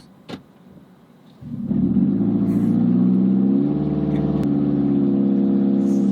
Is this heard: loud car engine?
yes